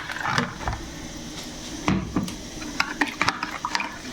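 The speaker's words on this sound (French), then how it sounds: "Je vais mélanger." A spoon stirs salted water in a pot for couscous, making soft scraping knocks and light watery swishes in a few scattered bursts, fairly quiet and close.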